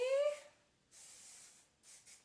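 Two short hissing bursts of heat protectant sprayed onto curly hair from a spray bottle, close by, following a brief vocal sound at the start.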